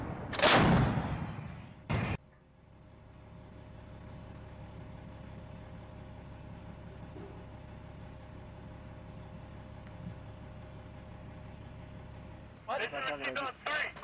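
An M777 towed 155mm howitzer firing a live round during a Marine exercise: one massive blast opening with a long rumbling tail, a second sharp report soon after, then a low steady hum before people talk at the end.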